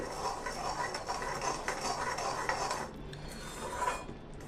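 Sugar syrup being stirred and checked in a pan while making sugar gathi, a steady close run of metal scraping and light clinks over a bubbling simmer, continuous with no talk.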